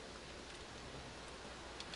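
Rain falling in Minecraft, a faint, even hiss of steady rainfall with occasional soft ticks, continuous and distant.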